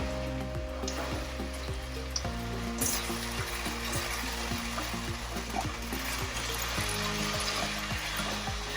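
A sauce thickened with corn flour bubbles and sizzles over raised heat in a stir-fry pan with snow peas, a steady close hiss with faint stirring scrapes and no voices.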